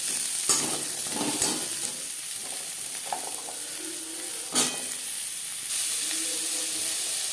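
Carrot, tomato and onion pieces sizzle in hot mustard oil, a loud continuous hiss close by with a few sharp spatula knocks and stirring clatters scattered through it, no talking.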